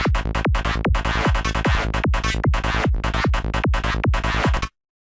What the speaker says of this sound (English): Today we're gonna make a new sound using Massive from Native Instruments.